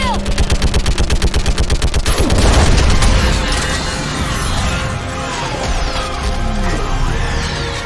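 Gunfire in a Mass Effect 3 video game battle: a rapid evenly spaced automatic burst opens, then a heavy boom and a continued chaotic crackle of shots and effects, loud and near, with voices shouting in the mix.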